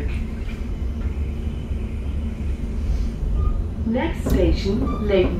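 Arriva Rail London Class 710 electric train running between stations, a steady low rumble with faint whine, with an announcement voice speaking over it near the end.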